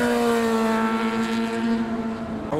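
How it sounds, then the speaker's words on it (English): A motorcycle accelerating hard while driving through a car show, its engine note rising in a steady, fairly loud revving drone that shifts pitch near the end, with no voices over it. "Oh, bike's going for it."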